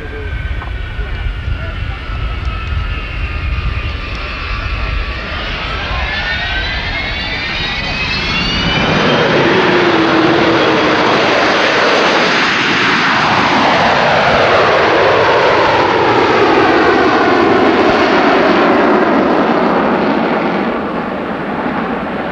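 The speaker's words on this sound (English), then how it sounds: "coming in for either a touch and go or a very low pass. That's a touch and go" An Avro Vulcan jet bomber at Woodford in 1987 makes a touch and go, its engine roar swelling from a distant whine into a loud, sustained, sweeping jet thunder close by.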